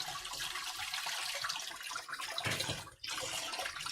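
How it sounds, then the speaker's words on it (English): A dish rinsed under a running kitchen sink tap, a steady splashing rush of water that briefly dips near the end before resuming. "it's in the sink and dirty, so let me give this a quick rinse."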